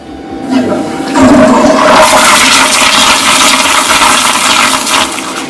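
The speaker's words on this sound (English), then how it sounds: "The flush of the week." A toilet flushing up close, a loud rushing gurgle of water that swells after a brief start and keeps draining steadily to the end, with no voices.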